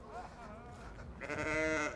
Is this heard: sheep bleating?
yes